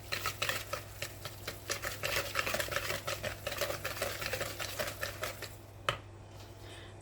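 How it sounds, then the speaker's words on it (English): Brownie batter with a teaspoon of pink Himalayan salt is whisked in a bowl, a fast, steady run of light ticking strokes close up that stops near the end with a single clink. "I'm going to whisk that."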